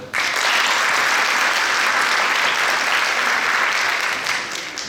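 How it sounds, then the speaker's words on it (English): A large audience breaks into dense, sustained applause after a dance performance at an arangetram, loud and even from start to finish with no other sounds. "Can we have a big round of applause for Noopur?"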